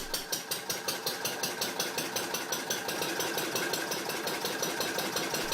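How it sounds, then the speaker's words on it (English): A vintage Lister CS Start-O-Matic single-cylinder, water-cooled, slow-speed diesel engine runs at an even beat of sharp, regular thumping pulses with a ringing mechanical clatter on top, steady and close with no talk. "The Lister CS Start-O-Matic is a single-cylinder, water-cooled, slow-speed diesel engine made from the 1930s to 1950s."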